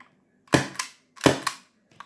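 An SSX23 airsoft gas pistol fires two close, snappy shots about three quarters of a second apart, each followed by a quick slide clack, with a faint click at the end.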